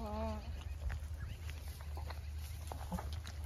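A Hyderabadi male goat in Bhilwara, Rajasthan gives a short bleat at the start, followed by scuffling, rustling and low background hum outdoors.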